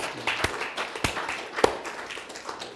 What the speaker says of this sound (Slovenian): Damo lahko Jezusu en aplavz za njega.